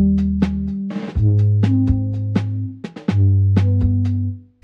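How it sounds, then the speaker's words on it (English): Soft, muted, dry 1970s-style drum kit from a Native Instruments library, playing a steady groove of thumping kicks and short snare hits with no room ring, loud and close, no voices. "I wanted more of a soft muted drum."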